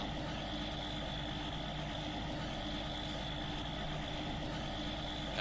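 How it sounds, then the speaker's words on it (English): A tractor engine in a farming video game idles continuously with a low rumble and constant mechanical hum, unchanging and fairly loud, with no other sounds. "sit here and listen to the loud ass engine"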